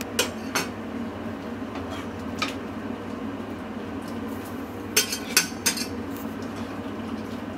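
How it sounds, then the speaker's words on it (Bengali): Dishes and cutlery clink as Bengali hotel-style fish curry is served onto a plate, with a few sharp metallic taps and scrapes over a low steady kitchen hum and no talk. "এবার আমি মাছের ঝোলটা প্লেটে উঠিয়ে দেবো"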